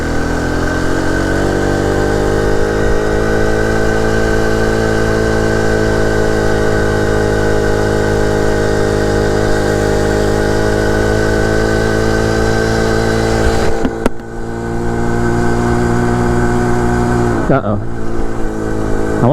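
A 49cc four-stroke motorized bicycle engine idles and runs steadily at close range, holding a loud, even drone with a brief dip and recovery near the end.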